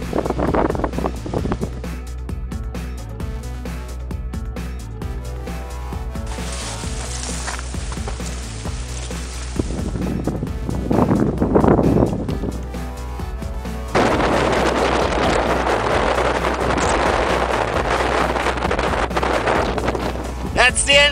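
Wind buffets the microphone at the crater of La Soufriere volcano on St. Vincent, a loud, shifting roar that surges and eases in strong gusts, with a voice talking over parts of it.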